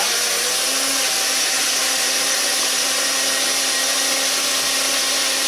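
Kitchen blender whirring steadily as it blends garlic and onion, a loud continuous motor whine with a constant pitch from start to finish and no talking.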